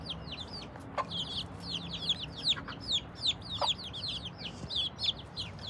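Chickens and chicks on an organic farm cluck and chirp steadily, with a dense stream of high peeps over low clucks and a few louder calls standing out nearby, no talking.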